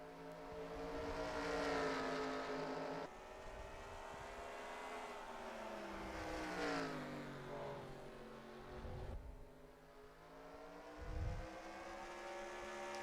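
Stock car engines howling around the Bristol short track in the NASCAR Racing 2003 simulation, a dense pack roaring loudly with pitch rising and falling as cars pass, punctuated by brief low whooshes.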